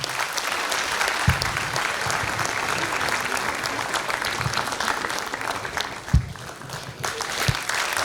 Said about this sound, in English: a big, big thank you and a huge round of applause for our dance teacher,